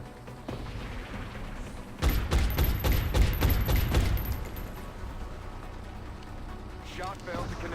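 A rapid burst of gunshots from soldiers in XCOM Enemy Within rings out for about two seconds over a steady low game hum, then fades back to ambient background.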